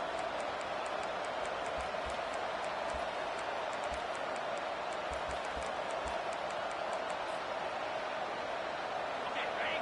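Loud, sustained football stadium crowd noise on third down, a constant roar backing the defense, with sharp rhythmic clicks or claps cutting through repeatedly.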